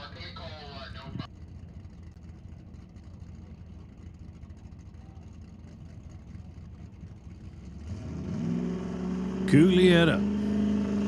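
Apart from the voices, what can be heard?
drag racing car engine building boost at launch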